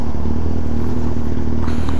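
A small motorcycle engine runs loud and close, a steady rumbling drone with a slight shift in tone toward the end.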